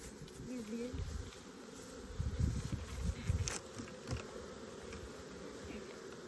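Honey bees buzz around the front of beehives during a honey super inspection, a dense, steady drone close by with louder passes as individual bees fly near, and faint voices in the background.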